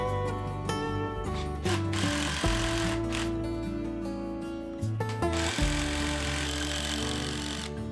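A power tool drives screws to fasten a faceplate onto a wood lathe before bowl turning, with loud, close, pulsing motor whine in repeated bursts that change pitch as each fastener tightens.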